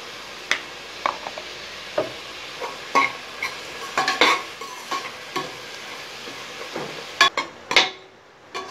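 Chopped onions, four of them with a little salt, sizzle and fry in a pan for a bachelor-style mutton curry, with repeated close scraping and clinking as they are stirred in irregular bursts and no talk.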